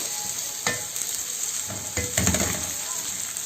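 Hot stuffing peppers sizzle and fry in a pan, a loud, steady crackle close by, broken by a few scraping stirs.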